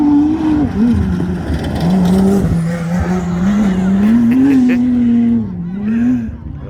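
A race vehicle at the Finke Desert Race approaches and drives over a jump, its engine loud and close with a wavering revving pitch that rises and falls before fading away.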